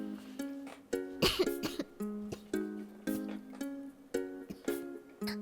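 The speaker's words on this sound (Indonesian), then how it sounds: "aku batuk-batuk, jangan-jangan kesurupan" A person coughs repeatedly in close, raspy bursts, several rough coughs and throat sounds spread across a few seconds, up close and fairly loud.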